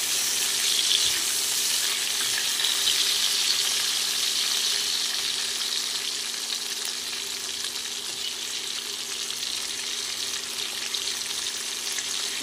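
Katla fish curry with potatoes frying in a pan, stirred, giving a steady close hiss and sizzle throughout with a faint constant hum beneath.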